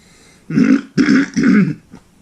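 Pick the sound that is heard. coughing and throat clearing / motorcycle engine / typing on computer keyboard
coughing and throat clearing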